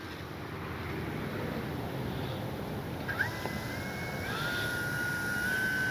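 A Hangar 9 J-3 Cub RC plane with a 10cc engine runs steadily as it tracks down a runway, the motor a continuous distant drone over wind noise with a rising whine toward the end.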